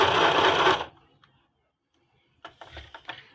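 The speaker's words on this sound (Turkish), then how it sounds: "bu düğmeye bastığınızda dikiş yapıyor kendisi" A robotic sewing machine runs on its own after a button press, a loud close whirring burst that stops abruptly, followed by silence and a few mechanical clicks and taps.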